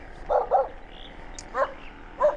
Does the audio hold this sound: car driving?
no